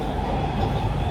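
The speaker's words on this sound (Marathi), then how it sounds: "आम्ही ट्रेनमध्ये बसलोय आणि एवढी ट्रेन स्वच्छ आहे ना, इटलीमधली, रोममधली ट्रेन आहे," Low steady rumble inside a moving passenger train in Rome, Italy, a loud continuous rolling drone with no talk over it.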